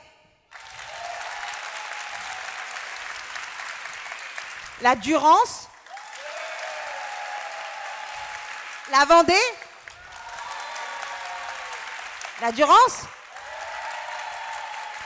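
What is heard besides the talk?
audience applause used as a vote, applause meter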